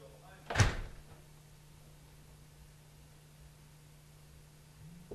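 A door in a soundproofed studio opens or closes with a single short, loud knock-like clunk near the start, followed by a low steady hum in quiet room tone.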